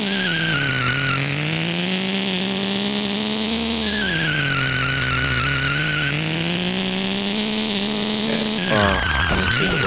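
Racing-car tires screech in long, continuous skids as the rear wheels lose grip in the Re-Volt video game, with a whining engine tone rising and falling alongside, loud and with no talking.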